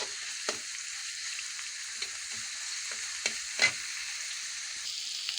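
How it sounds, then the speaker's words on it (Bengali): Onion frying in oil in a home kitchen pan, a steady soft sizzle with a few faint stirring clicks and scrapes, moderately quiet and continuous, with no voices. "পেঁয়াজটা একটু হালকা করে ভেজে নিচ্ছি।"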